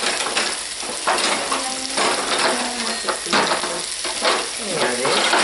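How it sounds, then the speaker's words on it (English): Peppers and onions sizzling in a pan for a breakfast casserole, a dense, loud, continuous frying hiss with light scraping and stirring sounds throughout. "And my peppers and onions are cooking up here."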